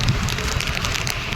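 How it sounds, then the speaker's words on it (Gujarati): Heavy rain pouring down in Gujarat: a dense, even, broadband hiss of rainfall with faint patter, loud and close, with no voices. "ધનાધન વરસાદ પડે છે આજે"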